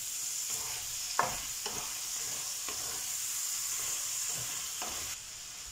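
Shrimp and tomato sauce sizzle steadily in a pan for spaghetti, with a constant frying hiss broken by several scraping stirs of a utensil against the pan, with no voices.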